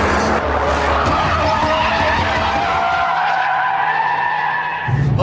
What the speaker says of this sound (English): the engine in this FQ360 model is such a tower of power, it can keep all 4 wheels spinning endlessly